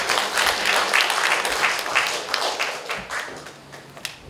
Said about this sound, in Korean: 뜨겁게 박수 한번 하십시오.